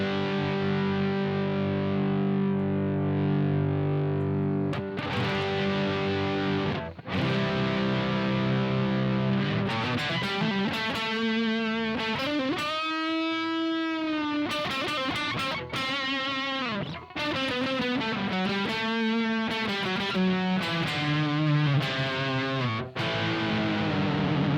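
Distorted electric guitar lead tone through a Soldano-based amp model on a Two-Notes Revolt pedal: sustained saturated chords give way to singing lead lines and bends, loud and steady with no talking.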